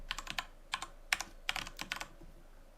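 A username is typed on a computer keyboard in quick, close bursts of crisp key clicks with short pauses between groups, alone in a quiet room.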